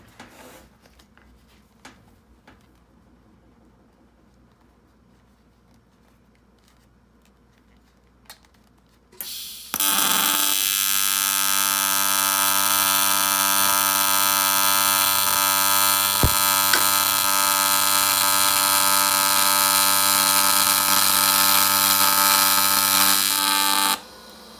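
TIG welding on a cast aluminum turbo housing: after quiet clicks and handling, a loud, steady, close buzzing hum starts abruptly and runs continuously for about fifteen seconds before cutting off.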